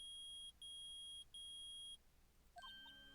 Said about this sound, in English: The metal detector found something! Sure is loud enough about it.